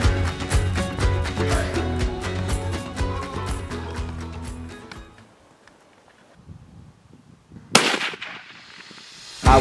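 A single sharp rifle shot fired at a bear while hunting in the Montana mountains. It cracks out loud after background music fades into near silence, followed by a second abrupt burst at the very end.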